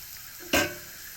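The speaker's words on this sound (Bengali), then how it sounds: "এখন আমি এখানে দিয়ে দেবো কিছু কাঁচামরিচ এবং কিছু টমেটো ছোট করে কেটে নিয়ে দিয়ে কিছুক্ষণ ভেজে নেব" Green chillies and chopped tomatoes drop into hot oil in a pan, giving one sudden loud sizzling burst that quickly settles to a low steady hiss.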